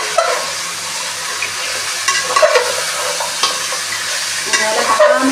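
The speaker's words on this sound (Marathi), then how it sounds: "त्याला असं हलवायचं।" Chicken and onions with salt and turmeric sizzling and frying in a pan while being stirred, a steady loud hiss with intermittent scraping and clinking of the spoon against the pan.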